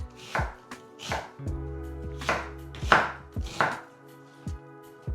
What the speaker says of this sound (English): the onions just need to be roughly chopped